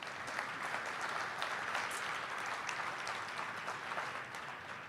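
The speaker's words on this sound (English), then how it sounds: "So if you'll please give them a round of applause." Audience applause for state legislators at a trusteeship symposium legislative panel, a dense steady roar of many hands clapping throughout, fairly even in level and easing slightly at the end, with no voices over it.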